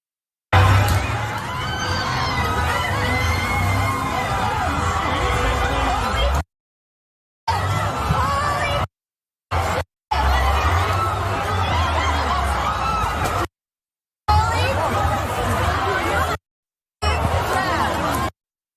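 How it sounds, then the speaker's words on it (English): A large crowd of protesters at an anti-Iranian-regime rally in Los Angeles makes a loud, continuous babble of overlapping voices and shouts, cut off abruptly several times by short silences. "a U-Haul intentionally plowed into a crowd of protesters"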